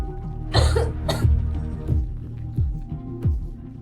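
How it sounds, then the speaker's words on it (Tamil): A woman with a cold coughs twice in quick sharp bursts, followed by a few softer throaty coughs, close and clear against a low steady hum. "அந்த பெண்ணுக்கு குளிரால் இருமல் வர ஆரம்பித்தது"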